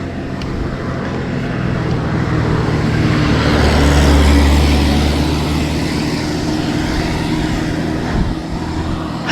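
A motor vehicle rumbles past on a gravel mountain road in Nueva Ecija, a loud, steady low drone that swells toward the middle and eases off, with crunchy broadband roadway noise throughout.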